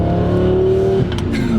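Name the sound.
twin turbo Lamborghini Gallardo accelerating and shifting gear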